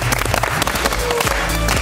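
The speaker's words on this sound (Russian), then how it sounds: "Вы молодцы, вам аплодисменты." Loud, dense applause from a studio audience at a contest show pitting media against musical theatre actors, filling the space continuously with low musical tones running underneath.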